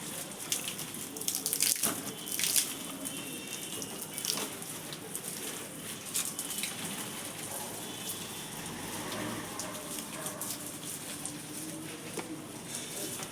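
Water from a hose or can patters steadily onto potted plants, including a crown flower shrub, on a hot day. It forms a continuous rain-like spray with a few sharper splashes early on, fairly close.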